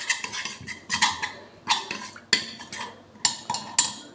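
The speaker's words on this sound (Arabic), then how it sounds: "بعد ما حطينا الثوم نخلطو البصل تاعنا مليح" A utensil stirs onions and garlic in a pot, making repeated sharp metallic scrapes and clinks against the pot in an irregular rhythm, close up with no talk.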